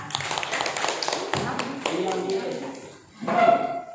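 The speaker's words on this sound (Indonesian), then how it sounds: "Beri tepuk tangan kepada Anissa" Students in a classroom clap briefly for a classmate, a short run of sharp claps in the first moments that gives way to someone speaking.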